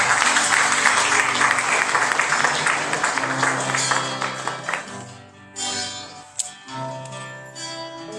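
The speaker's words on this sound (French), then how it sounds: "laisse-nous applaudir ici, bien fait" Steady clapping from a church congregation fills the first few seconds, then thins out into scattered claps and a few sharp hits.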